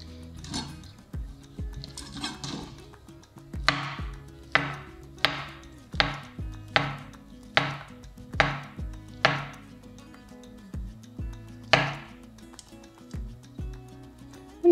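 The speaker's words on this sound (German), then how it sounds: "Ich werde erstmal hier eine halbe Banane reinmachen. Hier muss ich die erstmal schneiden" A knife slices half a banana on a board for a strawberry oat smoothie bowl, giving a dozen crisp, evenly spaced taps close by, with a few softer cuts before and after.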